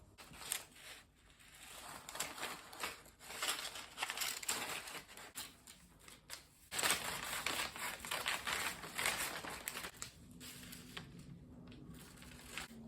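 Scissors cut through paper for a sweetheart bodice pattern, a close run of crisp snipping and rustling crinkles with short pauses between cuts.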